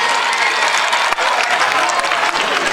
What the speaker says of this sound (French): Applaudissements pour Madame Diouf.